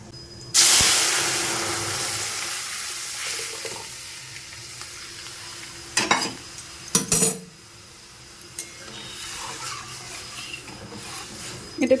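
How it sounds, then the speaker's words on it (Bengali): Whole spices for tempering dal hit hot oil with a sudden loud crackling sizzle that fades into a softer fry, followed by clinks of utensils against the pan and a few sharper spatters and knocks. "ডালটা ফোড়ন দিয়ে দিই এখনই তো আমার হাতে পায়ে একদম তেল মেল ছিটকে আসবে"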